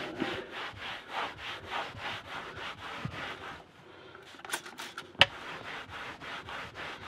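A cloth wipes down a leather car seat after cleaning product is applied, giving a steady series of close, rhythmic rubbing strokes with a short pause midway and a sharp tap near the end.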